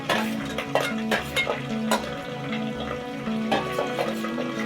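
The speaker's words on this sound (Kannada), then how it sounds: "ಚೆನ್ನಾಗಿ ಫ್ರೈ ಮಾಡ್ಕೋಬೇಕು ಇದನ್ನ ಚೆನ್ನಾಗಿ ಈರುಳ್ಳಿ ಇಷ್ಟು ಫ್ರೈ ಆದರೆ ಸಾಕು" Chopped onion, green chili and ginger fry in a pan with a soft, steady sizzle, broken by repeated scraping and clinking of a spoon against the pan, while background music plays throughout.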